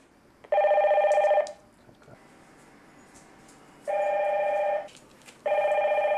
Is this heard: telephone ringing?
yes